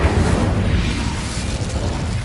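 Confringo fire spell blast in the Hogwarts Legacy game, a continuous loud low rumble of explosive booming that holds steady for about two seconds with no voices over it.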